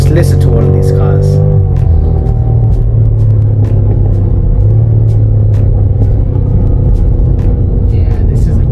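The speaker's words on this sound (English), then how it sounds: "Listen to one of these cars." A loud, deep engine of a Nissan Skyline GT-R or BMW M5 rumbles steadily nearby at a car meet, with a brief shift in pitch early on, while people talk in the background.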